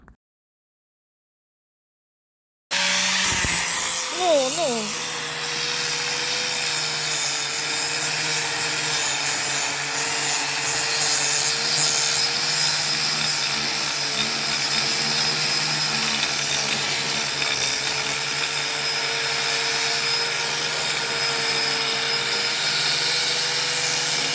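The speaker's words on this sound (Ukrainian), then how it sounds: "Тепер усі дошки остаточно обробимо за допомогою шліфувальної машинки і наждачних шкурок" A motor whirs up and settles into a continuous grinding drone as an electric sander with sandpaper works across wooden bed boards, steady and close throughout.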